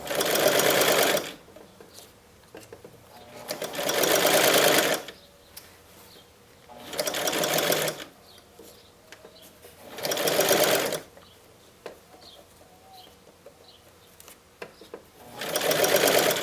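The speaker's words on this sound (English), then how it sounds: "So I'm just gonna finish my 1/2 inch seam allowance" A sewing machine stitches a half-inch seam allowance on a fitted skirt in four separate close bursts of rapid whirring, each lasting one to two seconds, separated by quiet pauses.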